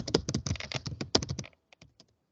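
Someone types the ipconfig /all command on a computer keyboard: a quick, close burst of clicking keystrokes, then a few sparse final taps and quiet.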